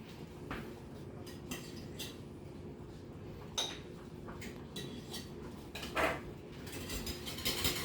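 Butter is whisked hard into a boiling bordelaise sauce in a pot, with quick metallic clinks and scrapes of the whisk against the pot at a steady pace, close by.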